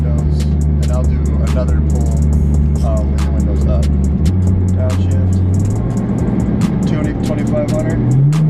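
Straight-piped BMW F30 335i heard from inside with the windows up during a hard pull, a loud droning exhaust tone that climbs in pitch, drops at a gear change and climbs again, with a voice talking over it.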